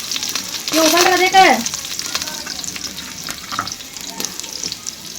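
Bay leaf, cloves, cinnamon and black pepper tempering in hot oil, a strong close sizzle and crackle that swells early and then settles into a steady frying hiss, with a brief voice at the start.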